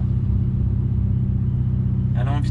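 Ferrari 488 Pista engine idling with a deep, steady low rumble close by, a voice briefly speaking over it near the end.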